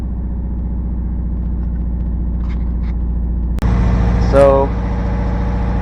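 A car engine with a cylinder misfire runs steadily at low RPM, a rough continuous rumble that swells as the throttle is touched near the end, with a brief voice under it.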